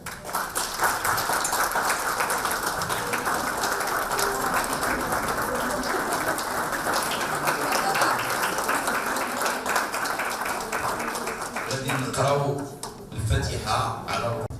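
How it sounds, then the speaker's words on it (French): A standing congress audience applauds a nursing team at an annual nurses' day event, a long, loud, even roar of many hands clapping that continues for over ten seconds, with talk and laughter emerging near the end. "je vous demande de vous mettre debout et de les applaudir très fort"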